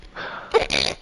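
A single loud, close sneeze sounds alone, a breathy build-up followed by a sharp explosive burst.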